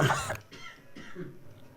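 A single close cough, followed by softer breathy throat sounds.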